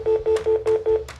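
A cell phone dials out with a quick run of six keypad tones, five crisp evenly spaced beeps and a final fainter one, close and alone.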